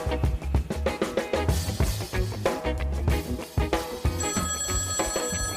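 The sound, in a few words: telephone ringing, the podcast's listener feedback phone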